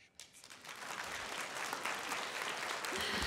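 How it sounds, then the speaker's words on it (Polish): An opera concert audience breaks into applause, a dense steady clapping that builds quickly and keeps going. "uważam, że to będzie miejsce na brawa"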